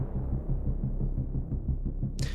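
Layered synth sub stabs built in Vital, short marcato bass hits, pulse in a steady, loud, low rhythm, with a bright burst of noise entering at the very end.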